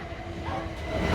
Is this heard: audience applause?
no